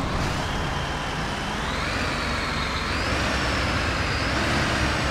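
A city bus in Bus Simulator 2018 drives with a steady, loud engine drone and road noise, a rising whine climbing through the middle, with no breaks in the sound.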